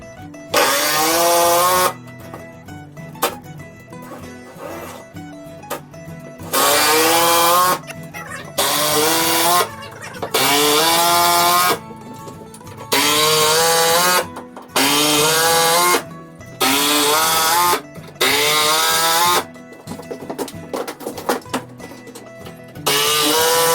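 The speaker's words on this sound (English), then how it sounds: "now I'm gonna tighten all the screws into the stud" A power drill drives screws into wooden studs while building a second floor in a Tuff Shed, sounding in loud repeated bursts of whirring several seconds each, separated by short pauses.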